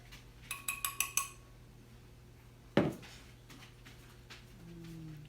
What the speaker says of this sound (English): So let's go ahead and get in the pot and get it mixed up